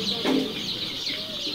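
A crowd of four-day-old brooded Tiger breed chicks peep together in a continuous high chirping chorus, with one lower, louder cheep up close near the start.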